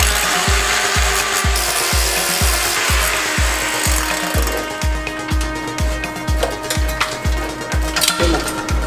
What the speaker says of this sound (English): So I'm going to have to take some sort of Sawzall or some sort of grinder, cut that piece of rebar out